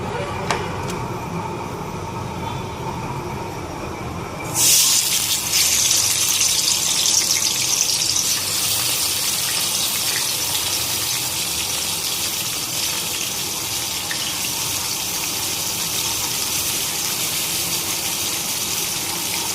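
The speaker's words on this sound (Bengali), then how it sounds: "মাছে নুন হলুদ মাখিয়ে নিচ্ছি। এখন তেলে দিয়ে দেবো।" Fish pieces rubbed with salt and turmeric hit hot oil, setting off a sudden loud, broad sizzle after a quieter opening stretch; the steady, close hiss then continues unbroken to the end.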